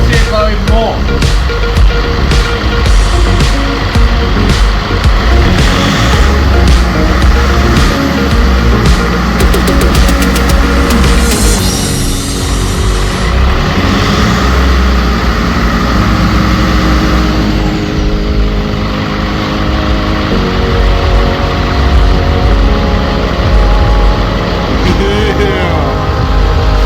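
A car with a bonnet scoop fitted backwards as a heat-extraction vent revs loudly nearby, the engine note rising and falling over about half a minute, with someone talking over parts of it.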